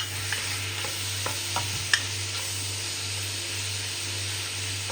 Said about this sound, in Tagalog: gisa na natin sa bawang sibuyas luya